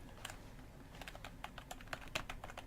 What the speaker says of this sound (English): I'm staring down at my keyboard making sure I don't press I, but I'm just button mashing.